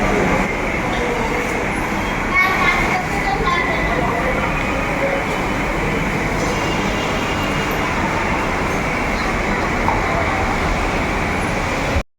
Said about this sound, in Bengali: এটা আমাদের মেট্রো স্টেশন